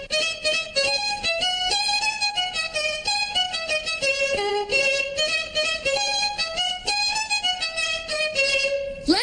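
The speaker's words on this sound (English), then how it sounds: "the violins sound like this" Violins play a continuous, lively melody of quick bowed notes in a children's cartoon, steady and full throughout, with no voices.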